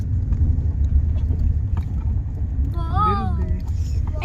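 Steady low rumble of a car engine while driving on a hill road on a trip to Vrindavan, with voices talking over it near the end.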